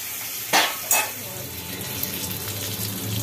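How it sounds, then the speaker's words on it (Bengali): Potatoes dropped into hot oil for a Bengali home-cooked meal, sizzling close and loud with two sharp splattering bursts at the start, then a steady frying crackle with light utensil clinks. "এবার আলুগুলো দিয়ে দেওয়া হলো তেলের মধ্যে"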